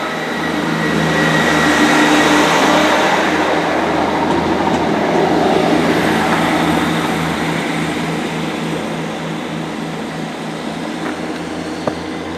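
A Great Western Railway class 158 diesel unit, 158763, rolls through a station at Bruton with a steady mechanical roar and engine drone that swells over the first seconds and then slowly fades as it moves away.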